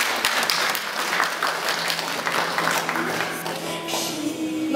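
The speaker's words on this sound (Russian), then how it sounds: "Прошу вас поддержать аплодисменты." An audience at a couple's contest in Yakutsk applauds with dense, sustained clapping that stays even and fairly loud throughout, with a faint voice near the end.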